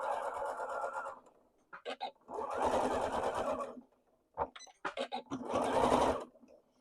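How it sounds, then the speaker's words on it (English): Sewing machine stitching a three-tiered skirt, running in several bursts of steady mechanical whirring separated by short pauses and brief stop-start clicks, close and fairly quiet with no talking. "Probably should not be on here talking while I'm sewing."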